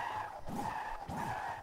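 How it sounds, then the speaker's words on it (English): A Rimac Nevera burning out in Forza Horizon 5 produces a sustained, steady tire screech with pulsing squeal under engine hum, heard close and continuous. "I'm trying to like do a burnout right now."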